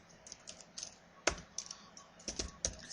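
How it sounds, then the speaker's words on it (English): Computer keyboard typing for a spreadsheet formula, a sparse series of quiet, close key clicks with uneven spacing and a few sharper taps. "You would type the equals sign."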